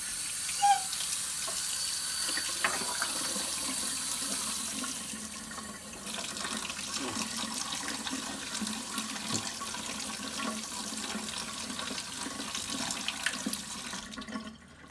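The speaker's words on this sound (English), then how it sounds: "for the bottles, I just let them run under hot water for about 20 or 30 seconds" Hot water runs from a tap over empty essential oil bottles, a steady close splashing stream with faint clinks of glass, continuing without talk.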